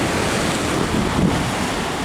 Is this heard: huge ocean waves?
yes